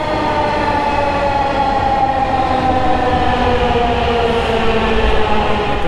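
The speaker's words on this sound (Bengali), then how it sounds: "মেট্রো জাস্ট চলে আসছে" A Dhaka metro train pulls into the station with a loud, steady electric whine and rumble, full of sustained tonal hums that fill the space continuously, with no voices heard.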